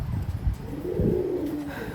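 Pakistani pigeons coo in a loft, a close, soft, throaty rolling call repeating over low shuffling sounds.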